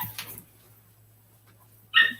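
A dog gives one short, sharp bark or yelp near the end, fairly loud after a mostly quiet stretch with faint sounds at the start.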